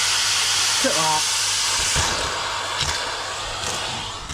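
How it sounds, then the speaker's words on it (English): A vacuum cleaner working inside a classic VW Beetle found abandoned in a barn: a loud, steady, close hiss with a faint whine and a few light knocks as the nozzle moves around the interior. "As I've been hoovering up"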